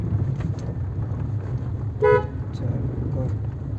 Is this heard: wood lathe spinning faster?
no